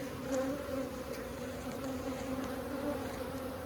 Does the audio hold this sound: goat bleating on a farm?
no